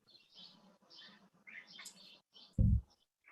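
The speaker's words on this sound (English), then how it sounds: "I enjoy hearing the birds in the background there." Small birds chirp and tweet in short, bright bursts in a garden, fairly close, ending with a brief low thump.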